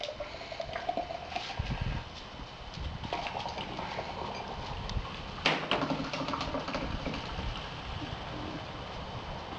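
Kingsleys' ginger beer poured from a bottle after being inverted to mix, a quiet, steady splashing and fizzing stream that runs for several seconds with a few brief louder gurgles partway through.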